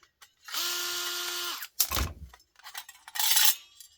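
A power drill whirs for about a second while driving screws into a microwave casing, followed by a clattering metallic knock and a few scattered clinks, then a second shorter drill burst.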